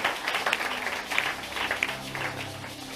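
A church congregation at a New Year's Eve prayer vigil applauds for Jesus, a dense, sustained wash of clapping from many hands, with some voices mixed in.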